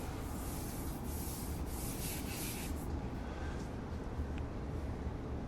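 Drywall patch being sanded smooth by hand, a continuous gritty scraping with repeated strokes, close and loud, with no voices.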